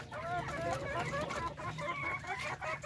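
Darag native chicken roosters cluck repeatedly in a busy farm flock, the calls loud and close and overlapping continuously for a few seconds.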